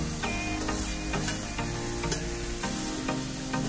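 A spoon stirs coconut, jaggery, ghee, cardamom and roasted dry fruits in a pan for ukadiche modak filling, with soft, rhythmic scraping strokes over a low, steady sizzle and no talk.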